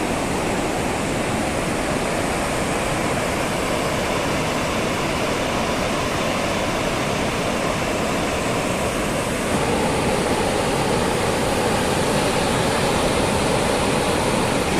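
Churning, swirling water in the Bhimkund pool keeps up a steady, loud rushing roar close by, like a waterfall or heavy surf, unbroken and unchanging from start to finish with no voices.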